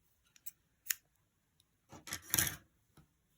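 Scissors snip crochet yarn to fasten off a finished square, giving a few quiet, separate cuts and small rustles, the clearest snips bunched near the end, close and faint in an otherwise quiet room.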